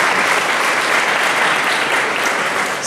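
A crowd at a ribbon cutting for the new Union Hall facility breaks into loud, close, dense applause that holds at full strength for nearly three seconds before beginning to ease off.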